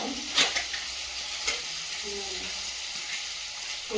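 Fish frying in a pan, a continuous bright hiss and sizzle of hot oil with a couple of brief clatters near the start and end.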